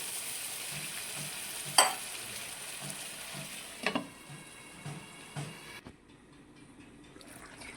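Peas and potatoes sizzle steadily in a pan while a utensil knocks against it a few times, before the sizzle fades and goes quiet.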